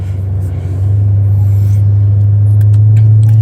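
A car is driven through traffic, its engine and road noise forming a loud, steady low rumble throughout, with no talking.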